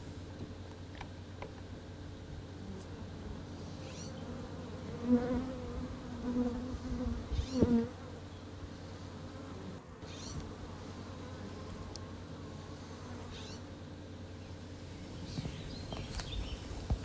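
Honeybees buzz in a steady, low droning hum that continues throughout, with a few louder swells in the middle as insects pass close.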